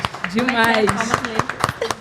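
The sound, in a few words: audience clapping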